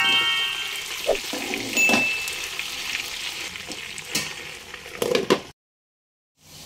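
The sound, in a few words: potatoes frying in oil for Kashmiri dum aloo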